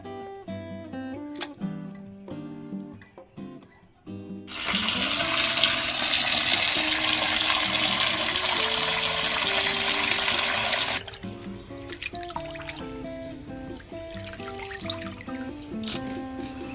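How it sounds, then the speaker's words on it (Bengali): Raw chicken is washed for biryani under running water: a loud, steady gush from the tap lasting about six seconds, set between quieter clatters and handling noises with background music. "মা এখন মাংসটা ভালো করে ধুয়ে নেবে"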